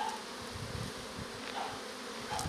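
Honey bees buzz steadily around a brood frame lifted from a hive, a dense close hum filling the whole clip with no voices over it.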